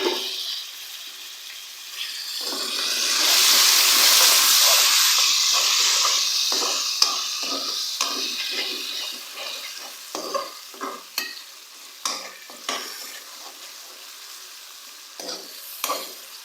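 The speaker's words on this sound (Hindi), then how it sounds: "अब मैं इसमें ऐड करूँगी टमाटर। टमाटर मैंने 2 अदद लिए थे, ये मैं इसमें ऐड कर रही हूँ।" Chopped tomatoes go into a pan of frying qeema (minced meat) with shimla mirch, a loud sizzling hiss surging and then fading, followed by repeated spoon scrapes and stirs close by, with no talking.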